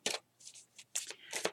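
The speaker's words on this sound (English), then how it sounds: "so I'm just going to shuffle these cards" Tarot cards being shuffled in several quick riffling bursts, close and fairly soft, separated by short pauses.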